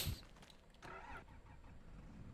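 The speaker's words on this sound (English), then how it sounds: "So now we got us a large tractor." A large tractor engine in Farming Simulator 25 cranks and catches, settling into a steady mid-pitched idle rumble that stays moderately loud throughout, with no voices.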